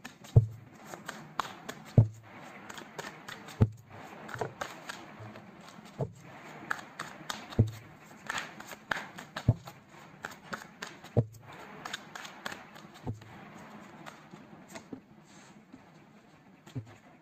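Tarot cards being shuffled and handled, giving a series of soft riffling flutters and sharp slaps of the deck repeating about every second or two, close and fairly quiet with no talking.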